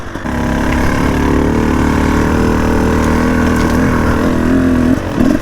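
A two-stroke dirt bike engine lugs steadily uphill at low revs, a loud, continuous close-range drone with a brief rise in pitch near the end.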